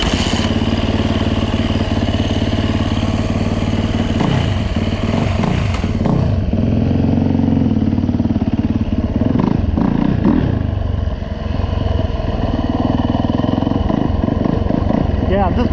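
Yamaha dirt bike (YZ450F or WR250F) riding in snow, a loud, close engine drone holding steady throughout with clattering and shifts in pitch, and no clear speech.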